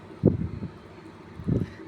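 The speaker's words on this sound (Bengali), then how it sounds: "বাতাস করছি হাত পাখা দিয়ে" Two soft, close whooshes of air, about a second apart, from a hand fan swishing past the microphone during a power cut, with quiet background in between.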